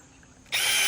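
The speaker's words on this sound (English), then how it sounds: "my super fancy articulating drill here. She doesn't have a lot of power, but she'll get right through" An articulating power drill with little power pre-drills a hole in an unclamped board, spinning up suddenly to a loud, steady high whine after a quiet moment.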